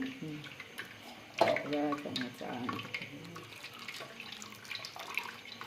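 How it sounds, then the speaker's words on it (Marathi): Water poured into a cooking pot splashes and runs in a burst near the start, then trickles on more quietly, while someone talks over it. "पाणी घालते"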